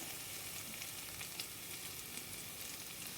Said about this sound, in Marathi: मिरचीची पेस्ट टाकल्यानंतर त्याचा कच्चेपणा जाईपर्यंत परतून घेणे